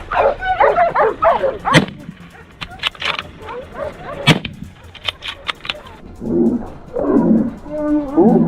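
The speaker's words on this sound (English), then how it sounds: "My hunting dog suddenly started barking uncontrollably and darted forward." A hunting dog barks repeatedly in loud, excited bursts out in the wild during a boar hunt, broken by sharp cracks and followed by growling, roar-like vocal sounds near the end.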